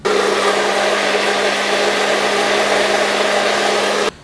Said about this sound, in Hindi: तो अब हम इसको इस ब्लेंडर में ब्लाइंड करते हैं